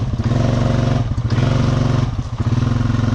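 A 420 ATV engine chugs loudly and close by as the machine drives deep through a creek. Its steady throbbing note dips briefly twice under load.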